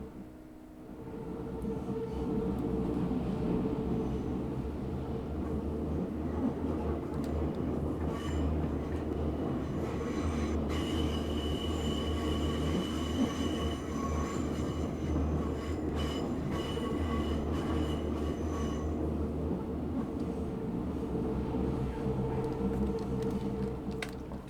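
An A3L92 U-Bahn train on Berlin's U3 line in the SubwaySim 2 game passes in the other direction: a steady, loud rail rumble with wheel squeal and faint clicks that hold for the whole stretch, no talking.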